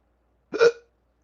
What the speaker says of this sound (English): Got chronic hiccups for 2 days.